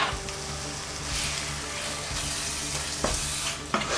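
Butter melting with cashews in a hot pan gives a steady close sizzle and stir, with a couple of sharp utensil knocks near the end.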